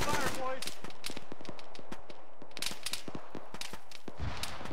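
Rapid gunfire in an Arma military firefight from a ShackTac team, a string of sharp cracks and bursts at moderate distance, with people talking over the shooting.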